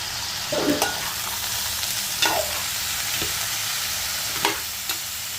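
Potatoes fry in a pan with soaked chana dal, mustard seeds and oil for a cauliflower potato egg curry, a soft steady sizzle broken by a few scraping stirs, with no talking.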